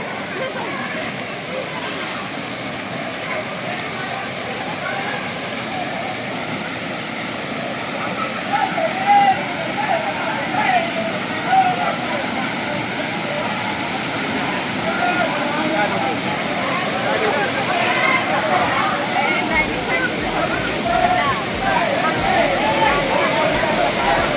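Vattayi waterfall, an upper cascade at a Thrissur hidden spot, pours in a steady, loud, broadband roar that holds throughout, with faint voices of bathers mixed into the rushing water.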